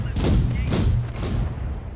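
Tank cannon and gun fire in a tank video game, three heavy booming shots about half a second apart, loud and close.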